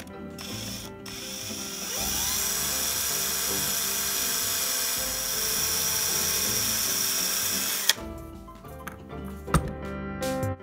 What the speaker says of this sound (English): Now let's start by making first a small hole into the cork stopper.